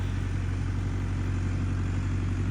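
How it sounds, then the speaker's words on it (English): A tractor engine running close by as it comes past, giving a loud, steady low rumble with an even mechanical chug throughout, with no voices over it. "We have a tractor coming."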